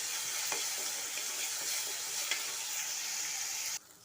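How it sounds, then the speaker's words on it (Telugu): Ginger garlic paste frying in a pan gives a steady close sizzle, with a few soft stirring scrapes, before it cuts off sharply near the end. "సో చూడండి, అల్లం వెల్లుల్లి పేస్ట్ బాగా ఫ్రై అయిపోయింది"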